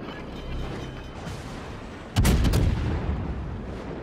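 Warship artillery guns fire in the naval combat game World of Warships, a sudden heavy boom landing midway over a low rumbling background, with the blast rolling on and decaying over the following seconds.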